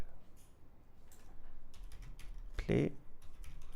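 A computer keyboard is typed on in a short burst of quiet clicks, with one louder thump near the end, under low room noise and no talking.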